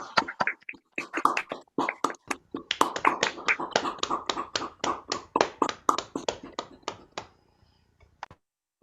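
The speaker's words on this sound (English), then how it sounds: "Big round of applause." Scattered hand claps from a small audience of storytelling listeners, a thin run of distinct sharp claps that thickens in the middle and then thins out to a few last isolated claps.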